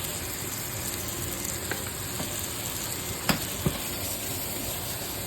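Chicken pieces sizzle steadily as they fry in teriyaki sauce with roasted sesame seeds, a continuous close hiss broken by a couple of brief clinks or stirs near the middle.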